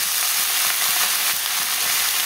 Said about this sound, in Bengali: পেঁয়াজ থেকে দিয়ে ভাজা হয়ে গেল, এখানে যে আলু দিয়ে দিলাম